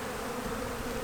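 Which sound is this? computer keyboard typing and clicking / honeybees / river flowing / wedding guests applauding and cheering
honeybees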